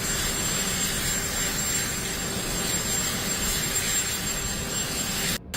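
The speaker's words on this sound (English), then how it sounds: "It's just cool watching this plane take off and stuff." An airplane taking off, with a loud, continuous jet roar and a thin whine overhead that cuts off abruptly at the end.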